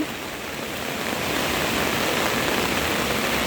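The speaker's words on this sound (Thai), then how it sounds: "ตรงนี้จะเป็นท่อระบายน้ำคือตอนนี้มันระบายไม่ทันนะคะ มันเอ่อขึ้นมานะคะ" Floodwater surges up out of an overwhelmed storm drain during a heavy downpour, making a loud, steady, unbroken rushing roar with no voices.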